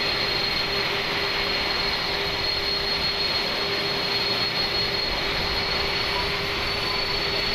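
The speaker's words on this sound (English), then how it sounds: "We have a good engine start." Steady, loud roar and high whine of an Airbus A310 jet engine running after start in Microsoft Flight Simulator, a constant dense drone with no talk over it.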